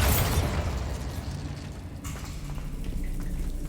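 A Bombarda blasting spell explosion in the video game Hogwarts Legacy: a loud booming burst at the start that decays into a crackling, debris-like rumble with a smaller pop partway through.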